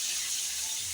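Paneer pieces fry in hot oil with a little salt in a pan, giving a steady, close sizzle and hiss throughout a brief moment.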